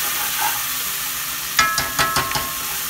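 Garlic and ginger paste frying with browned onions in a pan for spicy octopus, a steady low sizzle that jumps into several sharp crackling bursts as the paste hits the hot oil and is stirred, no voices.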